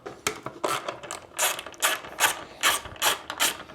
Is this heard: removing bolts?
yes